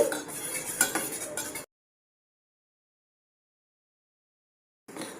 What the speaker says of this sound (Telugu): అడుగంటకుండా దీన్ని ఇలా మిక్స్ చేసుకుంటూ ఉడికించుకోవాలి.